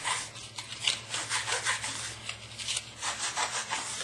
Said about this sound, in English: I literally buff the edges on my pants.